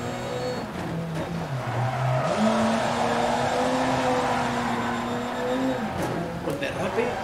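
Rally car in Dirt Rally 2.0 rallycross at Silverstone or Barcelona in torrential rain, engine revving and shifting pitch as the car drifts, with tire skid noise over steady road and rain hiss and a voice talking over it.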